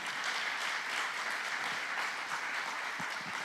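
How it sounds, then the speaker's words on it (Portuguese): A church congregation at a couples' pre-conference applauds, an even, continuous roll of clapping from many hands heard at a moderate distance throughout. "Quem pode aplaudir o Senhor por isso?"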